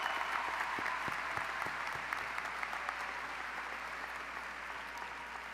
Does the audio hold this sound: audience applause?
yes